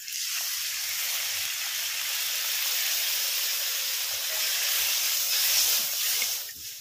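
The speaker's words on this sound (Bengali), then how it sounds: "আমড়া ভেজে নিয়েছি, এখন নারকেলের দুধ দিয়ে দিচ্ছি।" Coconut milk poured into a pan of frying amra and spice masala sets off a loud, continuous hiss and sizzle that holds steady for several seconds with no talking.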